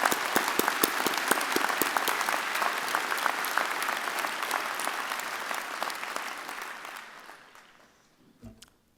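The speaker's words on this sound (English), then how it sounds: "Let's give them a big round of applause to all our graduates today." Graduates at a University of Calgary fall convocation receive a large crowd's sustained applause, dense and loud at first, then thinning and fading to a few last claps near the end.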